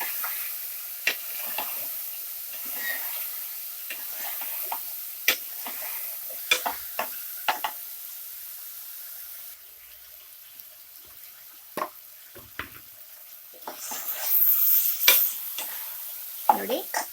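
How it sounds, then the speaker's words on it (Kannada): Potatoes and brinjal fry in oil for an avarekai masala sambar: soft sizzle punctuated by repeated sharp stirring knocks, briefly quieter midway, then a louder bubbling burst near the end. "ಇದೊಂದು 2 ನಿಮಿಷ ಫ್ರೈ ಮಾಡ್ಕೊಳ್ಳಿ ಎಣ್ಣೆಯಲ್ಲೇ."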